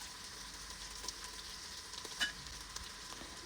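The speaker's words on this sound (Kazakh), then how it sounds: "Пиязымызды салып қуырамыз." Chopped onions frying in a pan for chicken chakhokhbili, a quiet, steady sizzle with faint crackles and a few small pops.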